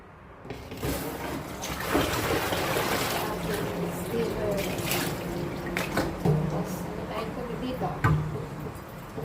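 Weak, thin trickle of tap water running from a faucet with low pressure because the pump is off and broken, a steady soft wash of flow under someone talking.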